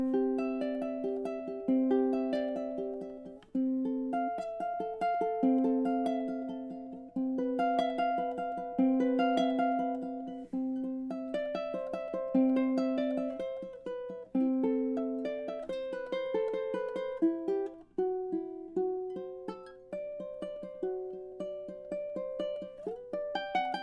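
Fingerstyle ukulele playing an arrangement of a cello piece, plucked melodic notes over steady picked chords, close and clear with no talking.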